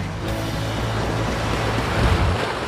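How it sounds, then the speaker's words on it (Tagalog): Strong sea waves roll and crash against the shore at Mahboula seaside in Kuwait, a loud continuous surf roar mixed with gusty wind buffeting the microphone. "Lakas ng alon, no?"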